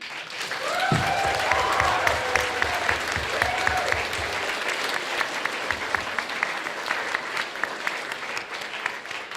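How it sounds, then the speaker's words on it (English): Convention panel audience at BronyCon 2013 breaks into loud, sustained applause, many hands clapping densely for several seconds, with a brief voice early on over the clapping. "huge round of applause for anyone who works in education."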